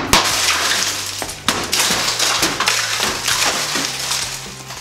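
A car window shattered with the glass-breaker tip on the back of an everyday-carry knife: a sharp crack and burst of crumbling, splintering glass, then scattered tinkling fragments and a second crunching hit, loud and close.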